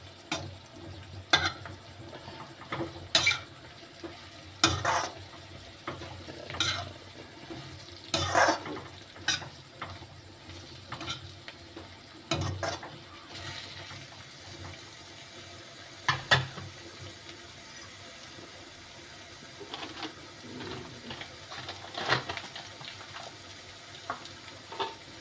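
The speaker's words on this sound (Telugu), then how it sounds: "ఉల్లిపాయలు బాగా వేగిన తర్వాత మొత్తం కాకరకాయ ముక్కలు వేపిన సైడ్ కొంచెం మొత్తం కలిపేసుకోవాలండి." Fried onions and bitter gourd pieces are stirred in a pan, giving intermittent scraping and clattering strokes over a faint sizzle, spaced irregularly at close range.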